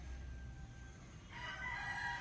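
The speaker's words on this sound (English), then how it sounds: "with our good friends the roosters cheering you on" Roosters crow on a farm, a loud crow rising near the end over a low background hum.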